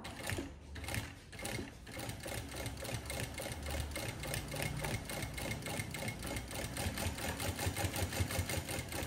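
Sewing machine stitching fabric, a fast, even mechanical rattle running continuously up close after a brief pause near the start.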